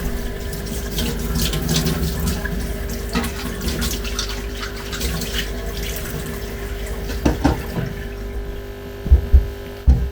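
Tap water runs steadily into a container as it is rinsed out while hatching brine shrimp eggs, giving a continuous close splashing hiss with a few louder knocks near the end.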